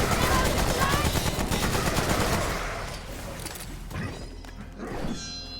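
Rapid automatic SMG fire in the game Remnant: From the Ashes, a loud dense rattle of shots that fades after a few seconds into scattered impacts, with a voice talking over it.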